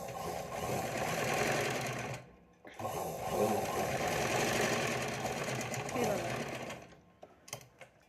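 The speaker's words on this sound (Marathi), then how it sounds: "परत आपण याच्यावर एक टीप टाकून घेऊया" Sewing machine stitching the front panel of a size 28 princess-cut blouse, a fast steady whirring run, a short pause, then another long run tapering into a few brief stitches, close up with a voice speaking over it.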